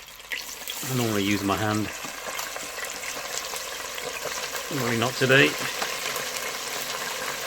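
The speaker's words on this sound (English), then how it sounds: "The oil in this is just Right, you can hear it sizzle" Hot oil sizzling and frying steadily while cooking desi-style fish and chips, a soft continuous crackle under a voice speaking twice.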